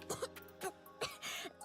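A character in the video game Nikke coughing, with two or three harsh, close coughs and throat-clearing sounds in quick succession, under a steady tonal game music background.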